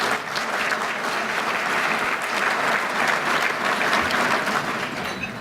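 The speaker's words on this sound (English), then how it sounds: "How about a round of applause for them?" An audience at a chamber of commerce annual meeting applauds, a dense and steady wash of clapping that carries on loudly without a break and with no speech over it.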